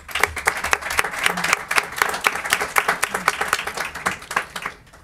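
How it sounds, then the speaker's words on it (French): Applause at a municipal council meeting: a room of people clapping steadily and briskly for about five seconds, dense overlapping claps at moderate loudness with no talking over them. "Je pense que ça mérite une bonne main d'applaudissements."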